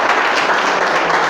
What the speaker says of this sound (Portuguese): Quem crê pode aplaudir, glorificar.